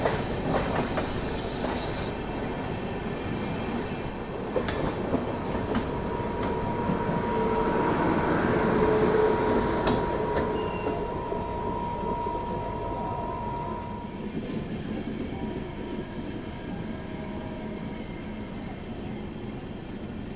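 Rajdhani Express rolling steadily along the rails while overtaking the Gorakhpur Humsafar Express, a continuous loud rumble with clickety-clack wheel beats and occasional faint squeals, heard from on board without voices.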